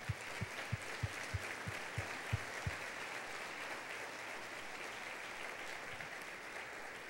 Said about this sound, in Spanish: Vamos a dar un aplauso a Dios por esto.